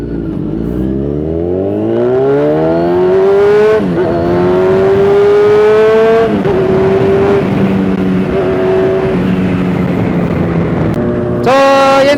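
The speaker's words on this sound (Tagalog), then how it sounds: "Ayun yung tunog ng 3 cylinder." A three-cylinder motorcycle engine, apparently a Yamaha MT-09, revs hard and climbs through the gears near the listener, its loud rising whine steadying then falling, with a sharp rev again at the end.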